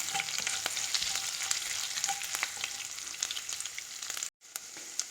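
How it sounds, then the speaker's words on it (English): Sliced garlic cloves frying in a pan for a curd curry, a constant fine crackling sizzle with light stirring, fairly quiet and unbroken apart from a momentary gap near the end. "I'm just going to fry till it becomes slightly brown."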